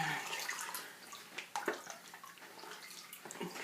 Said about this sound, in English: squeeze some of the water out